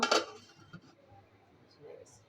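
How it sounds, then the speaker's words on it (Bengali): A metal lid clinks down onto a cooking pot of beef stew, one sharp clattering contact at the start followed by faint kitchen rustle and a small clink near the end. "এখানে আমরা ঢাকনা দিয়ে ঢেকে দিব"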